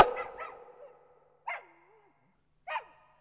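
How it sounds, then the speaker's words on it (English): A dog barks inside a cave-like space behind a roof fall, one sharp bark with a whimpering tail at the start, then two more isolated barks spaced apart, close and loud against silence. "Stop barking!"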